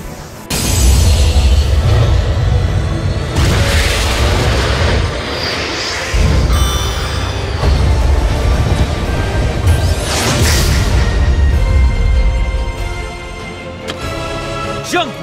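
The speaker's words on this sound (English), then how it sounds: "Synchro Summon! Appear, Junk Warrior!" A Synchro Summon effect from the Yu-Gi-Oh! Duel Links card game, summoning Junk Warrior: loud, dense whooshing and booming energy bursts with sweeping rising tones, continuous for most of the stretch before easing off near the end.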